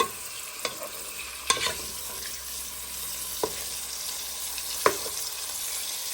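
Pork pieces browning in a pot with onion and garlic, a steady close sizzle of frying with several sharp clinks and scrapes of stirring.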